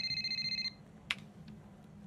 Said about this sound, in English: And we got a phone call once again.